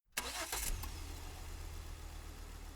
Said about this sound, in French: Alors nous avons une voiture